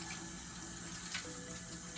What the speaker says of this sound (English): make sure to turn off the faucet using the paper towel